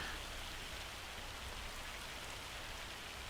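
Steady, even rain falls in Farming Simulator 25, a dense, continuous hiss of drops hitting the ground with no talking over it.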